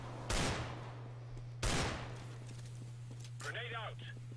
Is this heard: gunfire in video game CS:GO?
yes